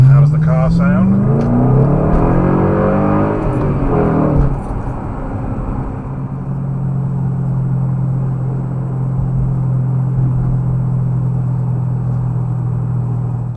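A car engine hums and rumbles as it drives, picked up by the built-in microphone of a Mini 0805 dashcam inside the cabin. Someone talks over the opening seconds, then a steady low drone carries on alone.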